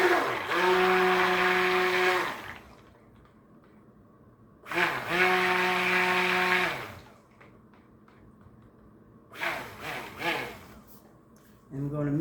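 A stick blender whirs in three separate bursts through purple soap batter, each a loud, steady buzzing drone of about two seconds, with quiet gaps in between.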